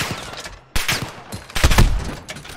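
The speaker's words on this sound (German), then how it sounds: "Die schießen auf mich!" Video game gunfire in Call of Duty Modern Warfare, dense and loud overlapping bursts of automatic shots and heavier impacts, with a brief gap before the firing resumes.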